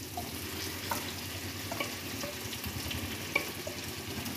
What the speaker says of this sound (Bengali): এর মধ্যে এবার আমি মেখে রাখা মাংসগুলো সব ঢেলে দেব।